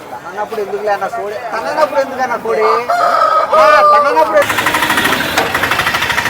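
A rooster crows at a Vijayawada rooster market, its rising and falling call standing out over a busy crowd of chattering voices and bird clucks, with people talking close by throughout.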